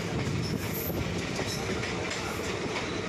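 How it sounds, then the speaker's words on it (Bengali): A passenger train in West Bengal moves off slowly after a long stop, with a low continuous rumble of wheels on rails, faint rhythmic clacking and an occasional high metallic squeal, heard from inside the carriage. "মিনিট 15 থেকে 20 ট্রেন দাঁড়িয়ে থাকার পর ধীর গতিতে আবার এগোতে থাকলো"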